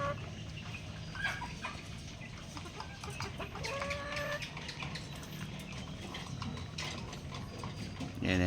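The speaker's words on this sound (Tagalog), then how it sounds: "Yan ang ating mga cockerels" Young cockerels cluck and call softly over a busy background of mechanical clicking and rattling, with scattered short bird calls throughout at moderate distance.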